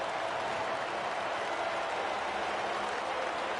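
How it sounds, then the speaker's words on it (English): Race-track crowd roar in NASCAR Heat at Michigan, a dense, constant broadband wash of cheering heard through a rear camera view, steady and loud with no break. "but the crowd is still loud"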